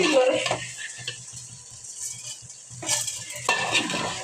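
Khichuri being stirred in a cooking pot, with utensil scrapes and clinks against the metal in irregular bursts, close and moderately loud, alongside a faint sizzle.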